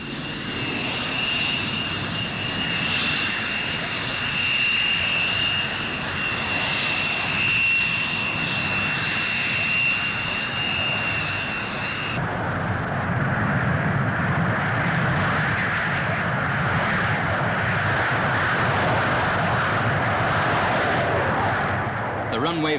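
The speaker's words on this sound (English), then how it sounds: "The runway flashes past with increasing speed. The plane streaks into the air" An English Electric Lightning jet fighter roars steadily down the runway and into the air, a loud, continuous engine rush with a high whine that cuts off midway, leaving a broad sustained roar.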